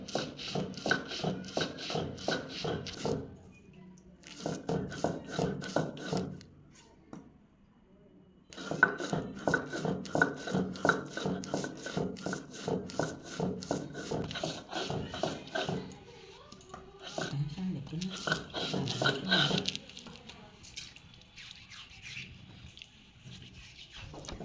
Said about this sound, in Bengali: এখন মা পাটায় বসছে, পাটার মধ্যে সর্ষে বাটতেছে।